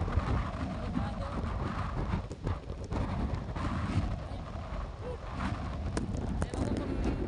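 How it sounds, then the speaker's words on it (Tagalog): Strong typhoon wind from Super Typhoon Uwan roars and buffets the microphone outdoors in a constant low rumble with gusty surges, while someone talks loudly over it. "Mga malakas pang hangin."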